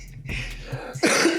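A person coughs close to the microphone: a short hack, then a harsher, louder cough about a second later, with no talking.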